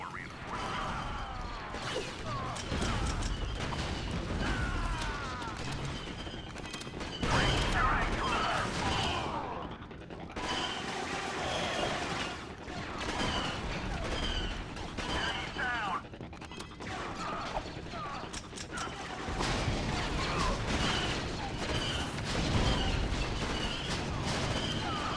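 Blaster fire crackles almost nonstop in Star Wars Battlefront Classic, with repeated shots, impacts and explosive crashes across a chaotic battlefield, while a player talks over the din.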